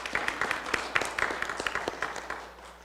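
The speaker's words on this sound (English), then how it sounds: "please clap" A small group at a school board trustee meeting claps steadily, uneven close hand claps that gradually thin and fade toward the end.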